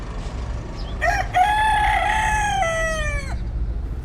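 A rooster crows once, loud and drawn out, over a steady background hum, with no voices.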